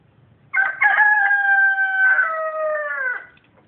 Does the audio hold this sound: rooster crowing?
yes